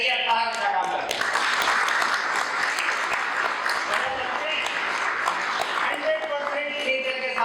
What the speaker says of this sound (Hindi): अपने सीएमडी साहब को तालियों से स्वागत करेंगे